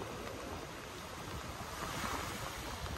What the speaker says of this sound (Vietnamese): Sóng bên đây đánh rất là to luôn.